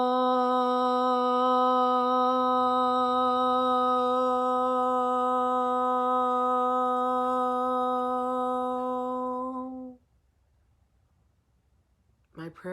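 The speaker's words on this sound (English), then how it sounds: "I'm going to end with the chant of Om" A single long sung Om holds one steady, resonant pitch for about ten seconds, rich in overtones and gradually tapering before silence, with a brief voice at the very end.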